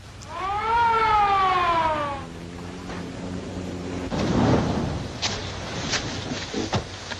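A police car siren wails in rising and falling sweeps, loud at first and then fading as it passes, with softer thumps and rustles afterward.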